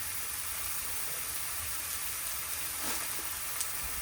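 Food put into a frying pan gives a soft, steady sizzling hiss that stays fairly quiet and even throughout, with a couple of faint taps near the end.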